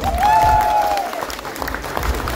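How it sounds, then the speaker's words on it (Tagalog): Steady clapping from a wedding crowd fills the clip, with a brief tonal whine early on and some murmuring beneath. "Sige, mas malakas na palakpak."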